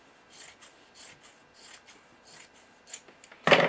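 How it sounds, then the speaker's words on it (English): Scissors snip through fabric along the fold with a series of soft, evenly spaced crisp cuts, ending in a louder rustle of cloth being handled. "And then you're just going to cut down the fold."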